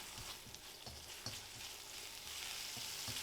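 Szechuan pepper powder stir-fries in a hot pan for kung pao chicken: a soft, steady sizzle with scattered light scrapes and taps of stirring, no voices.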